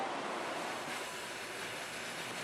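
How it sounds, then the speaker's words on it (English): A train rolls along the tracks on a mountain line, heard as a steady, fairly faint broadband rumble and hiss with no clear wheel clicks, continuous throughout and with no voices. "The train's on the move again"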